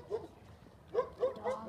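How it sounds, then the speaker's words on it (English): A dog gives a few short, soft barks and yips at moderate distance outdoors at night, in two brief bursts with a pause between. "Dogs."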